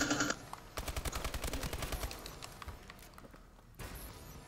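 Rapid video-game gunfire rattles off in a fast automatic burst of evenly spaced shots, loud and close, then gives way to quieter game noise and a brief later rise.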